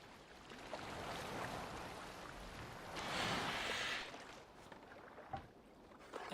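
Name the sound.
boat on water in Assassin's Creed Valhalla video game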